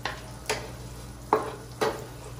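Crab aromatics being sautéed in a pan, a faint steady sizzle broken by a few sharp stirring scrapes of a utensil against the pan, close and with no voices.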